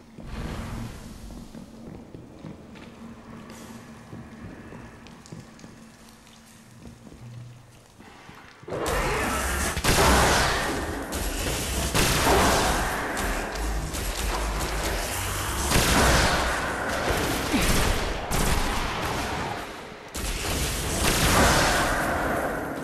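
Gunfire and booming blasts in Destiny on PS4 start after a quiet stretch, with loud, dense, irregular bursts of shots and thuds continuing for the remaining fourteen seconds.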